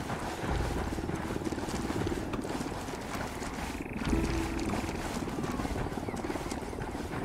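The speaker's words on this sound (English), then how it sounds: "There's a chopper coming." A helicopter approaches in the game Ghost Recon Wildlands at night, its steady rotor drone and whine continuous and fairly loud throughout, swelling slightly near the middle.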